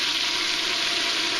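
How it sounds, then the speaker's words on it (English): Two cups of diced onion and pepper hit hot oil, a steady, dense sizzle of sauteing that stays loud and even throughout with no voices. "I'm going to saute 2 cups of diced onion and pepper."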